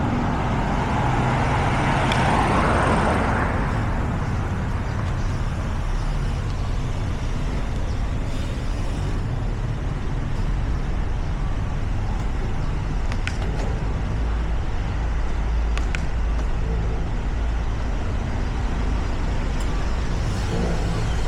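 Scooters and cross traffic move along a street in Phitsanulok, Thailand, a steady rumble of engines and road noise with a louder vehicle passing close early on.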